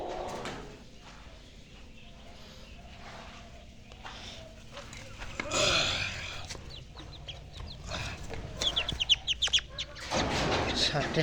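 Male quails being caught by hand, giving short chirps and calls amid rustling and handling noise, with a few sharp bird calls near the end.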